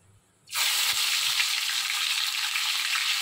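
Salt and tomatoes hit hot oil in a pan for rohu fish paturi, setting off a sudden loud sizzle that bursts in after a quiet moment and holds steady and close.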